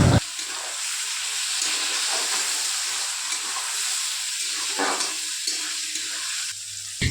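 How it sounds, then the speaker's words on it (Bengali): Chopped onion and tomato fry in hot oil for a chicken curry, giving a loud, close, steady sizzling hiss that breaks off briefly a few times before resuming. "এখানে দেখো টমেটো আর পেঁয়াজটা খুব ভালো করে ভাজা হয়ে গেছে"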